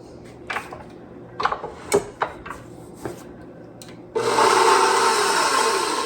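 An electric mixer whips a powdered sugar mixture for a no-bake lemon icebox cake, starting suddenly and whirring loud and steady after a few scattered knocks and clatters of bowl and utensils.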